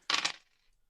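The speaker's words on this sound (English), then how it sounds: "I need a bunch of dice for this." A handful of dice for a tabletop game clatters briefly in a quick rattling burst and settles within half a second, close and alone.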